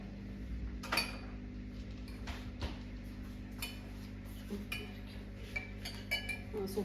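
Wet cake batter with vanilla essence stirred in a bowl, a utensil clinking and scraping against the sides in a quick irregular rhythm, close and moderately loud, with no voices.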